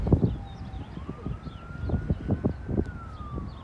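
A siren wails in the distance, its pitch rising slowly and then falling, partly masked by loud gusty wind buffeting the microphone.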